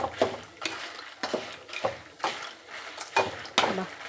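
Cumin seeds dry-roast in a pan for munagaku karam podi while being stirred, giving a rhythmic series of scraping, rattling strokes about every half second, close and moderately loud.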